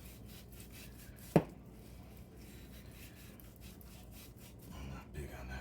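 A knife cuts through beef brisket with steady rasping, sawing strokes and one sharp thump partway through, close and fairly quiet, with faint background noise throughout.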